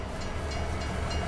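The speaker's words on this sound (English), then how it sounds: "The engine of the train" The train engine in the video game Farming Simulator 22 runs with a steady low rumble and faint periodic rail clatter, heard alone and moderately quiet.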